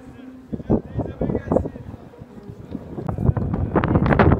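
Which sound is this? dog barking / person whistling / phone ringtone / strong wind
strong wind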